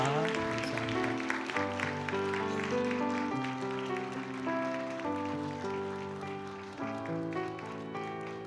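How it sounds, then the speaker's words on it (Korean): A church congregation applauds as flowers are presented during a service, steady clapping mixed with organ or piano chords playing underneath. "큰 우리 박수로 꽃다발 받으실 때 큰 축복해 박수 주시기 부탁드리겠습니다"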